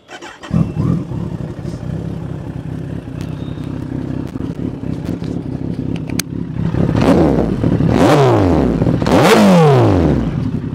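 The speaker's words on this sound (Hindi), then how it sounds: "मैं आपको लास्ट में एक आवाज़ ज़रूर सुनाना चाहूँगा क्योंकि इस बाइक में लगे हैं ब्रॉक्स के एग्जॉस्ट" A Suzuki Hayabusa or Kawasaki ZX-14R sport bike fitted with Brocks exhausts idles loudly up close, then gives two sharp throttle blips that rise and fall, with no talking.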